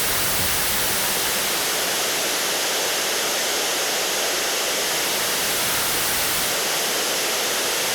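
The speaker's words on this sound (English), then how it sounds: "so let's bring in some white noise" A steady, unbroken hiss of white noise played through Slate Digital ML-1A microphone modeling software, loud and constant with no pauses or voices.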